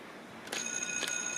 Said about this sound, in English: Wait, why is the bell ringing?